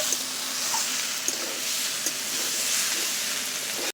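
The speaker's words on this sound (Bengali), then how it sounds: "তেলে দিয়ে দিচ্ছি একটু নেড়ে চেড়ে নিচ্ছি" Crushed garlic and other ingredients fry in hot oil while being stirred, making a steady, close hiss and sizzle with a few light scrapes throughout.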